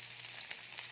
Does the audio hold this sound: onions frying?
yes